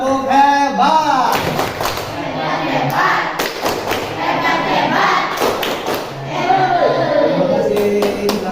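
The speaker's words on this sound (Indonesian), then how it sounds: "Ya, tepuk hebat dong, tepuk hebat." A classroom of students claps out the rhythmic 'tepuk hebat' pattern, sharp hand claps mixed with group voices chanting and talking throughout, steady and close.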